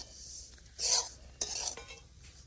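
Sugar being added to roasted moong dal and stirred in a pan, a few brief scraping strokes and clinks of a spoon against the metal, close, with no speech.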